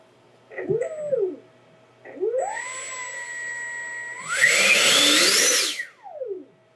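The 70mm electric ducted fan of an F-16 Thunderbirds model jet whines up in short bursts, then holds a rising, rushing roar close by before spooling down, a clear tonal whine sweeping upward under the noise.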